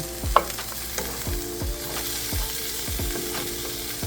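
Cut-up sausage stirred and frying in a pan while making crockpot lasagna, a continuous close sizzle broken by regular scraping strokes of a utensil against the pan bottom.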